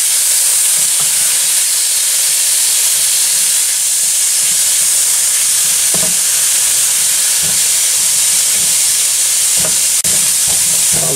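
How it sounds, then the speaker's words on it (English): Ground pork frying in a pan, giving a steady loud sizzle and hiss throughout with occasional soft clinks of stirring and no talk. "This is just ground pork that I'm going to fry up here."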